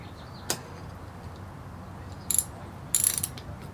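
A ratchet turns Torx bolts on a Talaria R supermoto wheel during installation, making short bursts of quick metallic clicking: one brief click, then two longer ratcheting runs, against a quiet background.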